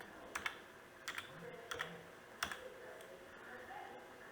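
Someone types on a computer keyboard while writing a Python program, with faint, close clicks coming in small bursts of two or three keystrokes at irregular intervals.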